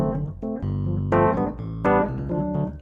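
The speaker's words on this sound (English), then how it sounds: "That's just a Rhodes." Rhodes electric piano playing warm, bell-like chords in a steady progression, each chord struck and sustained, loud and close with no talking.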